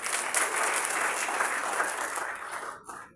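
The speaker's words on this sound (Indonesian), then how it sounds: "Mari kita tepuk tangan." A church congregation claps together during a Sunday service at GPPIRI Pondok Daud. Dense, even hand-clapping runs for about three seconds before tapering off.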